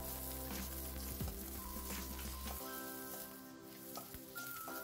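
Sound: sautéing garlic and onion in oil

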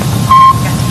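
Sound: Sputnik satellite beeping radio signal, 1957

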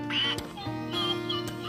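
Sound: toy duck making quacking sounds

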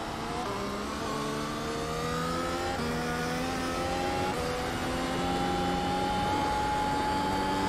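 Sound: Formula One car engine in iRacing video game

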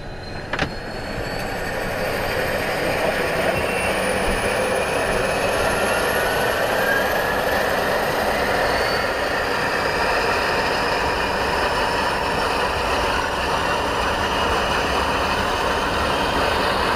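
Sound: Dornier Do 24 flying boat engine number one starting

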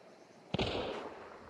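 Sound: gunshot in the video game Hunt: Showdown

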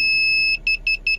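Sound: Ezetek car parking sensor warning beep near garage door

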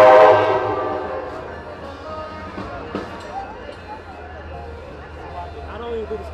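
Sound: train passing by with horn

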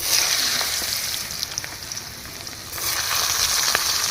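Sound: potatoes and vegetables frying, carrots added

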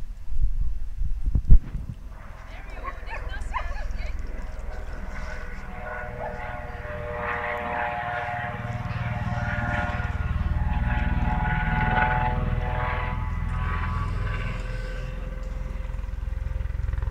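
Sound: rescue helicopter flying overhead

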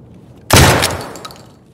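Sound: Benelli M3 shotgun firing in video game Escape From Tarkov

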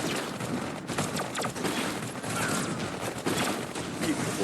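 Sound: gunfire in the video game Iron Marines Invasion

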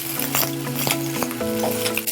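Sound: cooked rice stirred into frying onions

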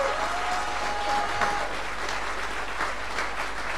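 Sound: audience applause

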